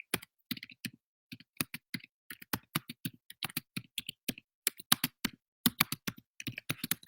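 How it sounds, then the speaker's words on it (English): Rapid, uneven keystrokes on a computer keyboard while a comment is typed for a Facebook live card reading, clicking in quick bursts with short pauses, close and fairly quiet, with no talking. "I'm going to type in a comment on Facebook"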